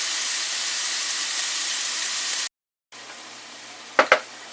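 Shrimp frying in batches in a pan, seasoned with salt and pepper, giving a loud steady sizzling hiss that cuts out briefly, then returns softer with two sharp clinks near the end.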